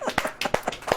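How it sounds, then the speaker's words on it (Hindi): A church congregation claps during a sermon, a short burst of quick, uneven hand claps, close and fairly loud, with no talk over it. "ताली बजाओ।"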